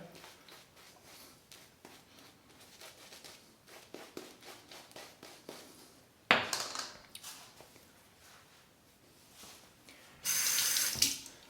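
Running tap water rinsing a Parker 22R safety razor during a shave: faint scraping and dripping, then two short loud gushes of water from the faucet, close and without speech.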